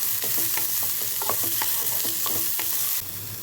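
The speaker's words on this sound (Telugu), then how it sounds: "ఉల్లిపాయలు కొంచెం బాగా వేగాలి." Thinly sliced onions fry in hot oil in a pan as a constant dense sizzle, with light spatula scrapes and clinks scattered across it, close and steady, and the sizzle drops slightly near the end.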